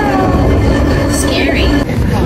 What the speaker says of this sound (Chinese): 今天带着小朋友们坐城市轻轨去都柏林的市中心看一看